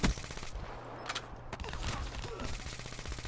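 Gunfire from the video game Black Ops 3 during an online match, with bursts of rapid shots crackling over a steady low hum, fairly loud and continuous throughout.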